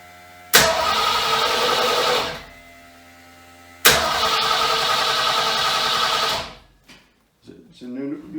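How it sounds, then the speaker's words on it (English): A 1967 Ford Mustang engine cranks over twice with the ignition disabled, each burst a loud, close, steady starter whir lasting a couple of seconds before cutting off, followed by faint shuffling. "we're going to crank it over with the ignition disabled and make sure everything cranks nice"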